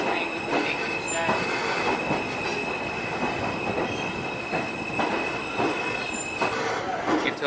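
A train runs along the rails with a steady rumble, rhythmic wheel clatter and a sustained high metallic squeal from the wheels, loud and close, while people talk briefly over it.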